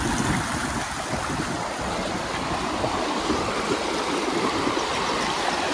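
Water of a stream rushing near Bonta waterfall, a dense, steady roar that holds at the same loudness throughout, close and with no voices.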